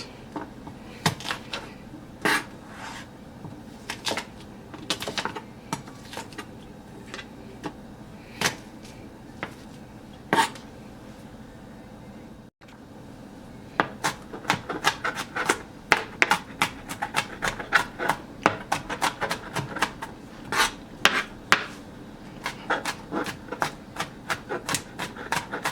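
Garlic cloves are roughly crushed and chopped with a knife on a board for a pork stew, giving a steady run of sharp close knocks that thicken into a faster, denser burst in the second half.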